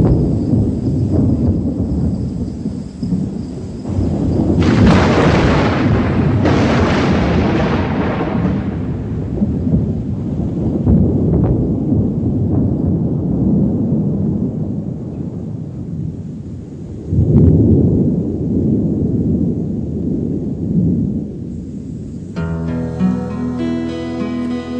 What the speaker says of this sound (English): by the look of that lightning there, I reckon I'm in for a pretty wet time of it